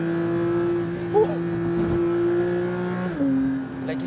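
A Porsche 992 GT3 engine holds a high, steady tone, then the pitch drops as it shifts gear, with faint voices and background noise.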